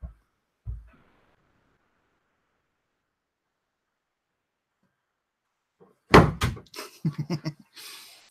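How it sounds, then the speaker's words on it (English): A door shuts with a loud, close thud and a short rattle after a long quiet stretch, followed by a few muffled knocks and shuffling sounds. "Close the door."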